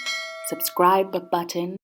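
A notification-style bell dings with a sustained, ringing tone, and a voice is heard over it for most of the short clip before both stop abruptly.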